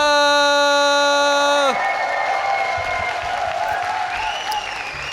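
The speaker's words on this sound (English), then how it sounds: "Give a cheer for Liquid Taeja!" A StarCraft II tournament crowd at HomeStory Cup X, loud sustained applause and cheering that follows a long held tone and stays full and steady, with a few whoops rising over it.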